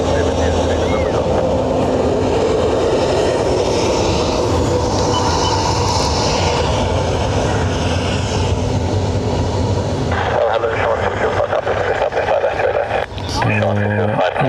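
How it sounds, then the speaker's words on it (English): An ATR turboprop from Edinburgh drones loudly at Dublin airport, a dense engine roar under radio chatter that drops away partway through. "ATR from Edinburgh."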